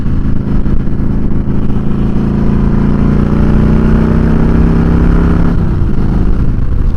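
A Harley-Davidson Fat Boy Softail with an 88 Twin Cam engine pulls hard on an open road, its loud, steady engine drone climbing under throttle for several seconds, then the note changes near the end.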